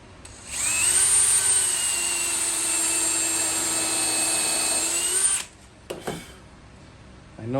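A power drill runs steadily for about five seconds, close and loud, driving a 2.5-inch screw into wood, then stops with a couple of short clunks and handling sounds.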